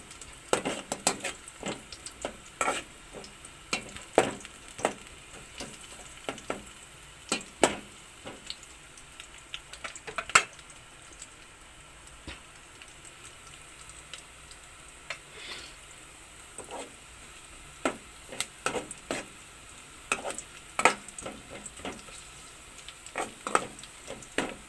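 Garlic and ginger fry in a pan with a quiet, low sizzle, broken by repeated sharp clacks and scrapes of a utensil stirring against the pan at irregular intervals.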